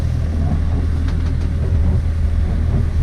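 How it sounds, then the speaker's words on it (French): A sailboat's engine runs at a pleasant anchorage before the anchor is raised, a steady low rumble filling the whole stretch without speech. "Et on a mis le moteur en route."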